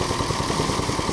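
A rice thresher with a shaking sieve runs steadily on its engine, giving a low, pulsing mechanical drone with a rapid rhythmic chug. It sounds close and continuous, with no voices.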